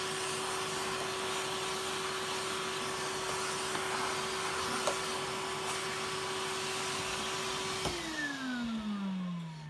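A vacuum cleaner, used to clean dust out of another vacuum, runs steadily with a constant whine and broadband rush, then winds down near the end as the motor pitch falls.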